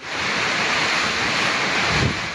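Strong typhoon wind roars steadily, buffeting hard enough to sound like crashing surf, with no voices, in Santa Ana, Cagayan during Super Typhoon Leon.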